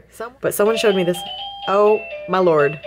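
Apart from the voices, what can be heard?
doorbell ringing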